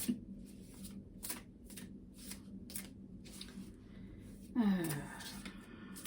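Earth and Bone Oracle cards shuffled by hand in a series of quick, crisp riffling bursts, with a louder flurry near the end over a low background hum.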